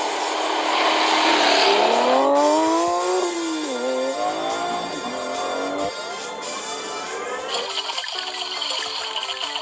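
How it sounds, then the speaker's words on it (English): Race cars speeding along a road in a video game, with a loud continuous engine whine that rises and falls in pitch as the car shifts gears, followed by a rougher, buzzier engine tone near the end, with no talking. "we will take a car, and we will race down the road to see who is the fastest"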